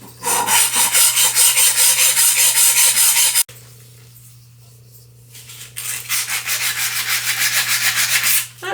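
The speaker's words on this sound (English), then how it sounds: "I'm going to try and use this metal rasp just very lightly and see if I can get that little knot down." A metal rasp filed very lightly over a small knot in wood, giving steady rhythmic scraping strokes up close, a short quiet pause midway, then more rasping to the end.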